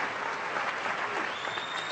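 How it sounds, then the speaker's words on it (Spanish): An audience at the inauguration of La Radio del Sur applauds Elena Salcedo, a dense, even wash of many hands clapping at once that holds steady throughout, close and loud, with no voices. "un aplauso a ella"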